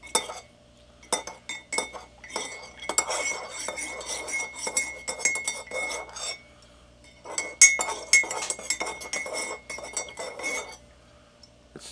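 A spoon stirs honey into cider in a glass, making quick runs of bright, close clinks against the glass in two busy bursts separated by a short lull, with a few lone taps at the end.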